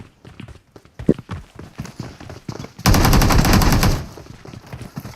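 Loud, rapid automatic gunfire erupts in a sustained burst of about a second during a 3v3 video game match, framed by quieter scattered shots and footstep-like taps before and after.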